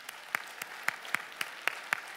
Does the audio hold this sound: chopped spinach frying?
no